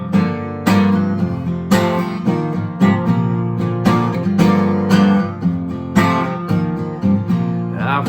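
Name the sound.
acoustic guitar intro of a song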